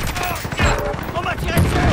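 Rapid gunfire in the video game Call of Duty Modern Warfare 2019 erupts in dense overlapping bursts, loud and close, with a voice speaking underneath.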